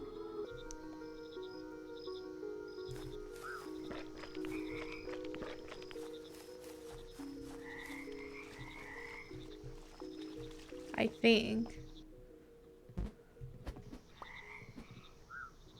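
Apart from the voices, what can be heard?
frog croaking in the video game Mudborne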